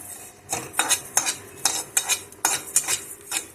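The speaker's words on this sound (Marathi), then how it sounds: "आपण धणे, जिरं, बडीशोप भाजून घेत आहोत" Coriander, cumin and fennel seeds dry roasting in a pan for a stuffed red chilli pickle masala, with a spoon repeatedly scraping and stirring in quick irregular strokes, close up with faint rattling of seeds and no talk.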